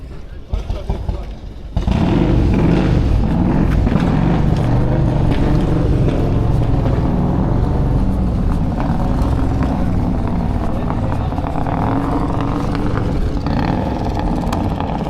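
Motorbike engines rev loudly and continuously close by at a car show, a rough roaring drone after a brief quieter start, with voices faintly under the noise.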